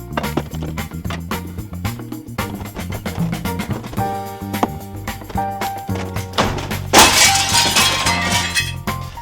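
Old window glass in a cottage window cracks and shatters as the frame is pried out, a burst of bright breaking glass and tinkling shards following a series of knocks and taps.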